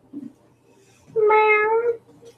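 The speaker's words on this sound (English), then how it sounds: "Here's Wiggum, our cat" Pet cat giving a single clear, drawn-out meow, close and fairly loud, following a faint short chirp in a quiet room.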